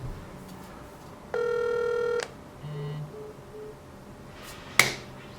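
An outgoing phone call rings back in the earpiece, one long steady ringback tone followed by shorter quieter tones and a sharp click near the end.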